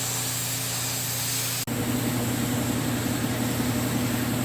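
A spray gun lays down a top coat finish with a steady hiss, cutting off for an instant then resuming a little louder, over a low motor hum.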